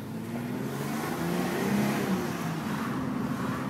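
Mitsubishi Galant VR4 engine under the lightest throttle, a steady mid-pitched hum that swells slightly and eases off, heard from inside the car, continuous and moderately loud with no voices.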